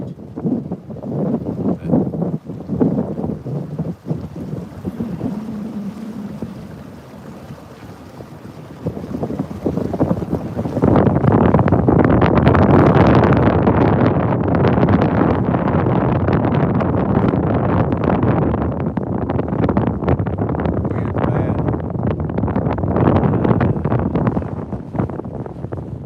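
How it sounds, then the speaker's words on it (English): Wind buffets a microphone out on the Tennessee River while fishing from a boat, starting as intermittent gusty rumble and turning into a loud, continuous roaring blast of wind noise for the second half. "Is the wind really bad right here, guys?"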